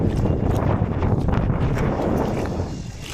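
Steady wind rumble on a microphone outdoors while fishing, a dense low roar with slight gusting that fills the whole stretch, with no voices.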